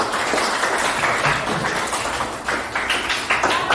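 A class of students applauds in a classroom, a fairly loud, steady patter of many hands clapping for the whole stretch with no talk over it.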